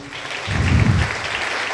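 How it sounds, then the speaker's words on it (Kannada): An audience claps at a live event, a short burst of applause that swells and then eases under room ambience. "ದಯಮಾಡಿ ನೀವೆಲ್ಲರೂ ಕೂಡ ನಮ್ಮ ದೇಶಕ್ಕೋಸ್ಕರ ಒಂದು ಜೋರಾದ ಚಪ್ಪಾಳೆ ಬರಲಿ"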